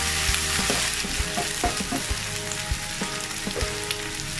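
Chicken liver sizzles and fries in a pan with vegetables for chop suey, a steady crackling hiss broken by scattered clinks and scrapes of a utensil stirring nearby.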